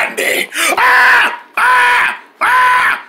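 A person screams three times in a row during Halloween trick-or-treating, loud and close, each cry lasting under a second with short gaps between them.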